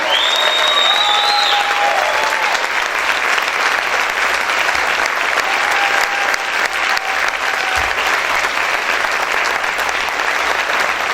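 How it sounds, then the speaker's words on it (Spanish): A church congregation claps loudly and steadily, a dense, continuous wash of applause filling the room throughout, with faint tonal music or singing drifting underneath. "Pueden aplaudir fuerte al Rey"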